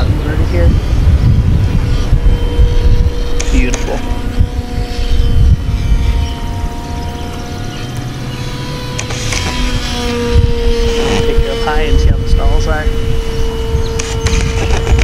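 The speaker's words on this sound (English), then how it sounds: "This plane will do all your basic maneuvers." An FT Commuter RC foam airplane flies overhead, its electric motor giving a steady whine that rises and falls in pitch as it maneuvers, fairly loud and continuous over wind and background noise.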